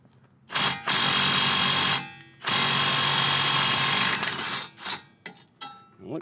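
An Astro 658 pneumatic slide hammer hammers loudly at the hub bolts on a 2015 Subaru Outback, running in two long sustained bursts of rapid air-driven impacts, then a few short blasts as it tapers off.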